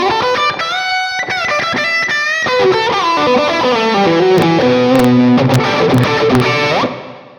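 An electric guitar lead tone from an Axe-Fx II XL rings out in a run of sustained notes and bends, drenched in long reverb that lets each note hang, ending in a fading tail.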